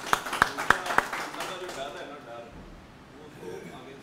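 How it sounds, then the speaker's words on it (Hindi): Four sharp, evenly spaced hand claps during a motivational talk, close and loud, quickly giving way to someone talking. "इन लोगों के लिए तालियां बजाइए प्लीज़।"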